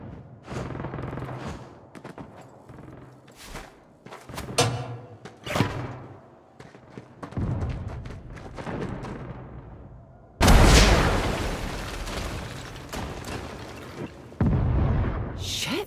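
A rocket fires and explodes in the Saints Row video game, a sudden loud blast with a long roaring tail, set among scattered gunshots, bangs and other game effects.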